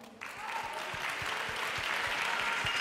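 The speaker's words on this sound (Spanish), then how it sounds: "¡Fuerte el aplauso para ellos!" Audience applause at a youth event, beginning with a quick swell and then settling into sustained, even clapping from a crowd over a few seconds, with no voices over it.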